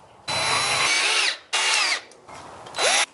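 Power drill driving torque bit screws into a wooden frame of a chicken tractor, three loud close whirring bursts in quick succession, the last rising in pitch as the screw seats, with no talk.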